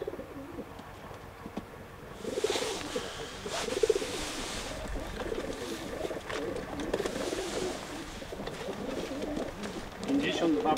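Young pigeons cooing in a loft during a presentation, soft low burbling coos recurring close by while someone talks over them.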